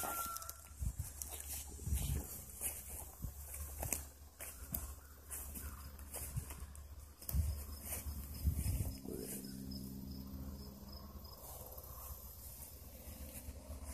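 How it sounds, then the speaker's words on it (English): Chickens and roosters cluck faintly at a distance in a yard, with footsteps and scattered shuffling sounds closer by and low background noise throughout. "Wanna see some roosters? Look at the chickens."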